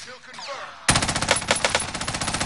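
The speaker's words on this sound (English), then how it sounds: "he kept shooting at me" Rapid automatic gunfire bursts out suddenly in a video game after a quiet moment, a fast rattling string of loud close shots.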